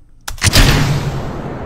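A rocket launching in the video game Kerbal Space Program fires with a sudden loud roar that stays heavy and sustained, with no talk over it.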